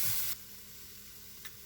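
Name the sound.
stir-fry vegetables sizzling while being stirred in pan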